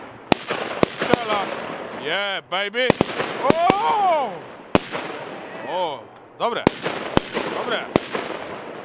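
Scream 10s firecrackers go off in sharp, loud cracks spaced irregularly, several with whistling rising tones between the bangs, while people shout and cheer in Polish.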